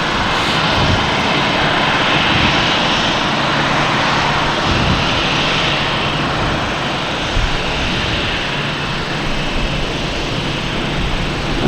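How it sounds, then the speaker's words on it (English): JetBlue jet airliner taking off on runway 22 right at Boston Logan, a loud sustained engine roar heard from the airport area without letup. "We got JetBlue taking off on 22 right, and looks like a JetBlue coming in on 22 left."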